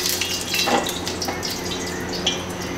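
Water pours into a pot for a Sichuan egg soup, a close, continuous splashing rush with a few sharper drips and clinks.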